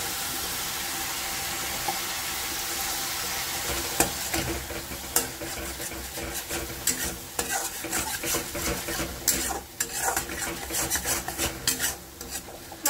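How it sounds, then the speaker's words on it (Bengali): Ginger garlic paste sizzles in hot oil in a pan while being stirred, giving a steady close frying hiss broken by scraping and clinking utensil strokes. "কিছুক্ষণ কষানোর পর এই তেলের মধ্যে এবার একটুখানি আদা রসুনের বাটা দিয়ে দিতে হবে।"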